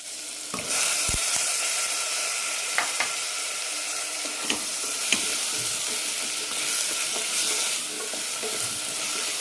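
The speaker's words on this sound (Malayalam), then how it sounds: "തക്കാളി ഇട്ടൊന്ന് നന്നായി വഴറ്റിയ ശേഷം മുരിങ്ങക്കായ ഇടാം." Drumsticks and tomato masala sautéed in a pan, with a steady close sizzle and a handful of sharp clinks as a spoon stirs against the metal, no voices.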